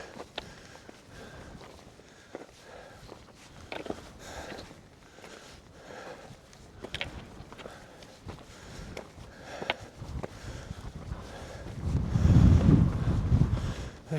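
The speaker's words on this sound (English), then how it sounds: "Here comes that wind again." Wind gusts across a mountainside on Red Pike in freezing conditions, buffeting the microphone with low rumbling that swells into a strong blast near the end, with footsteps crunching throughout.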